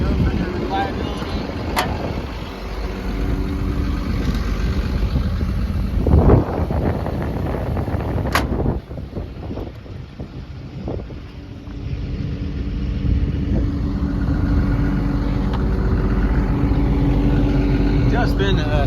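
Diesel engine of a 2016 XCMG 210 hydraulic excavator, a 6.7 liter Cummins, idling with a steady low rumble through the whole stretch, with a brief dip midway and wind buffeting the microphone; someone talks over it.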